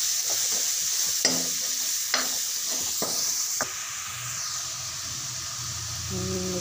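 Black chickpea curry masala frying in a pan gives a loud, continuous sizzle, broken by several sharp spatula scrapes and knocks against the pan in the first half.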